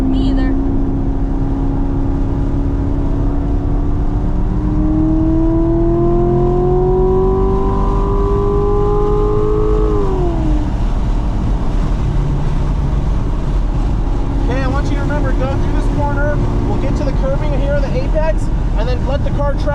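A car laps the East Track at Burt Brothers Motorpark, its engine climbing steadily in pitch under acceleration before dropping sharply as it lifts off. The engine drones on loud and close from inside the car, and voices come in near the end.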